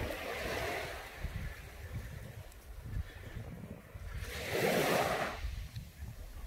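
Surf washing onto Muro Beach in Mallorca, a steady broadband wash with wind noise, swelling into a louder breaking wave near the end.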